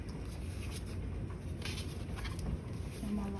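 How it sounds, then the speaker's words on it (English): Heavy rain falls steadily during a wet spell, a continuous, even hiss with no clear pauses across the whole stretch. "Can you guys hear the rain?"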